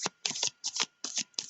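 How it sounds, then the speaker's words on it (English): Tarot cards being shuffled by hand in several quick riffling bursts with short pauses between them, close and fairly crisp, with no voice. "It's kind of an awkward shuffle, so if it looks a little odd on camera, just be aware."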